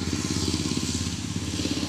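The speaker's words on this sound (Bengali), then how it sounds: "সব মোটর সাইকেল গাড়ি ঘোড়া যাচ্ছে, শব্দ শোনা যাচ্ছে।" A motorcycle engine drones steadily on a nearby road beside farm fields, a close, rough, pulsing putter that stays constant throughout with no voices.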